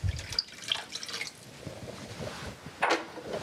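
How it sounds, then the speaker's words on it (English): Bleach poured into a container of warm water for soaking fig cuttings: a close, trickling, dripping pour with a brief sharper splash near the end, no speech. "And then we're gonna add 1 cup of bleach."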